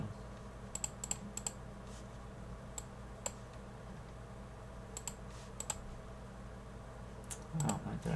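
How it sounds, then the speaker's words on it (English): Computer keyboard shortcut keys are clicked in short, scattered bursts of sharp taps against a quiet room background, close and fairly faint, with no talking. "I'm so used to using ZBrush shortcut keys that I just automatically start clicking my keyboard."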